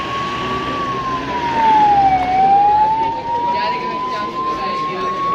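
Ambulance siren during an earthquake mock drill in a village square, a steady wailing tone sweeping slowly down and back up, loud and continuous over crowd chatter and background noise.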